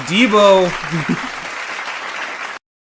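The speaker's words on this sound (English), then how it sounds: "Let's get Marcus a round of applause" A studio crowd applauds a guest on an NFL talk show, a loud sustained burst of clapping that follows a host's voice at the start and cuts off abruptly.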